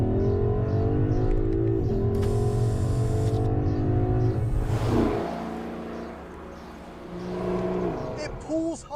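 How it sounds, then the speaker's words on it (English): A sports car engine revs hard and bounces off the rev limiter, a loud droning roar that cuts off abruptly, then quieter engine noise and a few short revs follow. "It pulls hard and it bounces off the rev limiter in the most dramatic way."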